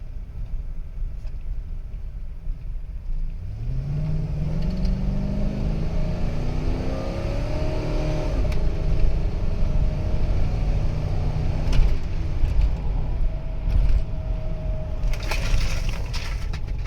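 A 2005 GMC Yukon 2500 4WD with an 8.1 liter engine accelerates hard, its deep rumble rising steadily in pitch through a long pull, loud and close, with wind and road noise and no talk.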